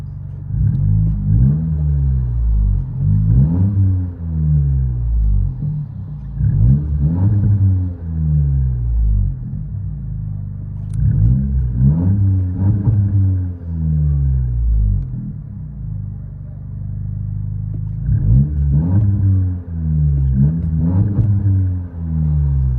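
A turbocharged 1.5-liter Honda Civic Si engine rumbles and revs repeatedly, heard from inside the cabin, with low throaty surges rising and falling in a steady rhythm.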